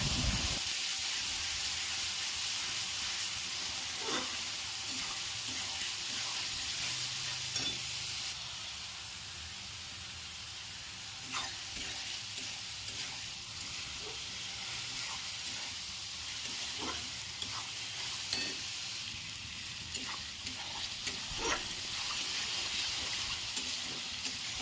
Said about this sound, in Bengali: প্রথমেই দিয়ে দেবো পেঁয়াজ বাটাটা হালকা লাল করে ভেজে নেব।